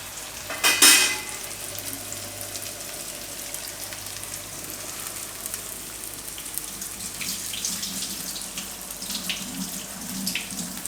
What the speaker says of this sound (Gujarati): તો ત્યાં સુધીમાં આપણે દાળમાંથી પાણી કાઢી નાખીશું.